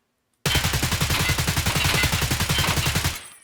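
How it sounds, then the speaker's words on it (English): Rapid automatic fire from a scoped rifle in Escape from Tarkov, a loud, close, steady burst of around twenty evenly spaced shots lasting about three seconds, standing alone before cutting off. "I'm going to shoot more than 5 bullets and it's going to drop way below it."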